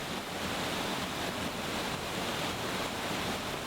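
Steady rushing water roars without a break, a dense wash of noise filling the whole clip like a nearby waterfall near an Altai snowcock nest.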